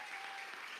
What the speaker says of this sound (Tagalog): Parang ang hina ng palakpak po natin